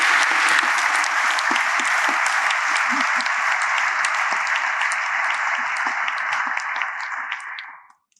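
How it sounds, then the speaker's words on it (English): A conference audience gives sustained, even applause at the closing session, many hands clapping densely for about eight seconds before fading out at the end. "So I would ask you to give them a special applause,"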